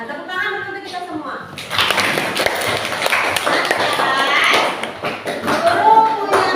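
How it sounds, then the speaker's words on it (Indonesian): Students in a classroom clap together in a loud, dense burst of rapid applause that runs on and then fades, with children's voices and chatter mixed in. "tepuk tangan dulu untuk kita semua"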